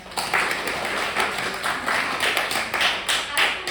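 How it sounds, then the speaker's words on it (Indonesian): Classroom of students clapping hands together, a close, moderately loud burst of applause with a pulsing, uneven rhythm of overlapping claps. "Oke, good, very good ya, tepuk tangan."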